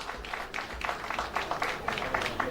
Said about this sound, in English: The pals are clapping for the minister.